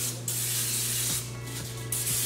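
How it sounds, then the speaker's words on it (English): Cooking spray hisses steadily from an aerosol can onto a pan on a medium-heat stove, close up, in two long bursts with a brief pause between them and a low hum underneath. "and spray the pan."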